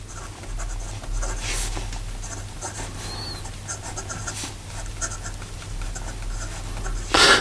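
Montegrappa Lord of the Rings fountain pen with a medium 18 karat gold nib writing on paper, making faint, close scratchy strokes over a low steady hum and ending in a brief louder rustle.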